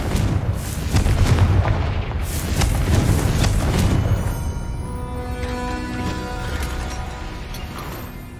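Confringo fire spell cast in the Hogwarts Legacy video game, a loud booming blast with crackling bursts that rumble on for several seconds before fading into a softer ringing tail.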